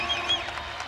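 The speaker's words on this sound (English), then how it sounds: "The seniors are taken out to a standing ovation from the crowd." Basketball crowd giving a standing ovation to departing seniors at a BYU–Gonzaga women's game, a brief burst of distant cheering and applause in a large arena.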